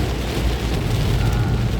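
Heavy rain pours down on a toll road in a dense, steady roar, with a low rumble of traffic beneath the constant downpour. No one speaks.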